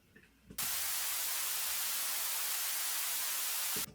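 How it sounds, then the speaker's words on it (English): Steady white noise resembling television static, used as a sample in a sidechain compression music production lesson, rises abruptly into a loud, even hiss that holds for about three seconds before cutting off, with nothing else heard. "I've also got some white noise here, which just sounds like static that would come through a telly or something"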